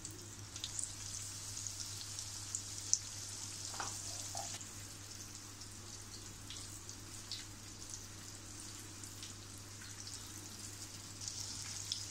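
King mackerel (surmai) slices coated in rice flour, semolina and masala frying in oil on low heat, a steady soft sizzle with faint crackles and occasional pops, close and quiet throughout.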